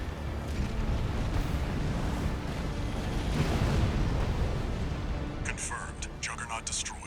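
An explosion destroys the Juggernaut, a massive armored war machine in the mech combat game Armored Core VI, with a loud sustained rumbling blast and debris roar filling the scene, while a voice talks over it and crackling bursts come near the end.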